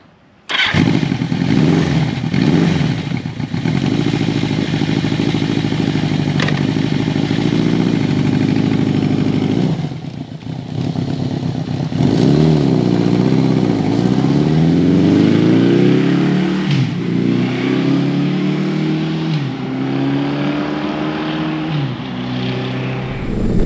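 A 1982 Yamaha XJ1100 Maxim motorcycle roars steadily while being ridden, its engine note rising and falling through gear changes with wind rush, loud and close throughout with no talking.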